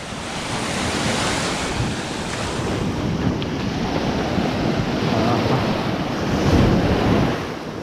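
Ocean waves breaking on a beach in Turkey, a continuous broadband wash of surf mixed with wind buffeting the microphone, steady and close with a slight surge near the end.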